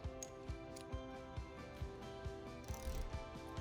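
A ratchet wrench clicks in short repeated bursts while tightening clutch cover bolts on a Yamaha Warrior 350 ATV to 84 inch-pounds, a quiet close rhythm of about two clicks per second.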